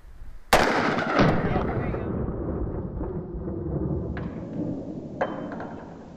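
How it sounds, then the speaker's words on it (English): A 9mm shot is fired at a folding bulletproof shield with one sharp loud crack outdoors. A long echo rolls after it, and a fainter second shot follows later. "It was exciting to see that it did stop the bullets, and we were able to successfully demonstrate it with 9mm"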